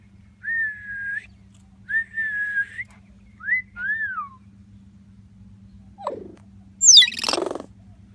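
A pet talking bird gives a whistled mating call: several clear sliding whistles with pauses between, then a sharper downward squeak and a harsh rising screech at the end, close and alone over a faint hum.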